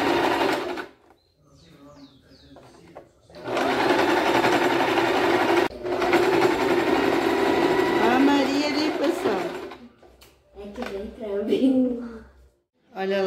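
A sewing machine stitches a lab coat in long rattling runs, with brief pauses and shorter bursts toward the end. Someone talks over and between the stitching.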